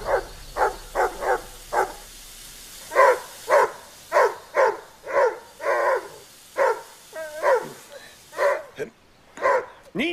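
A dog barks repeatedly in quick bursts, loud and close, during a tense scene in a Turkish thriller drama series; a few whimpering yips break up the rhythm.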